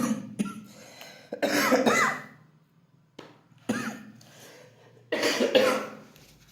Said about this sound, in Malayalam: ചുമയുടെ ചെറിയൊരു ശല്യമുണ്ട്